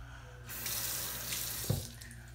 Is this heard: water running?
yes